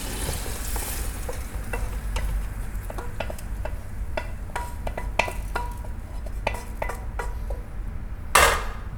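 Short rib ingredients sizzle gently in a hot pot beneath scattered clinks and scrapes of a utensil against cookware, with a sharper clatter near the end and no talking.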